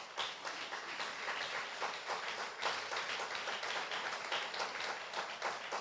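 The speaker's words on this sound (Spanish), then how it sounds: "Denle un aplauso al Señor Jesús." A church congregation claps together in steady, dense applause that holds at an even level for several seconds with no talking over it.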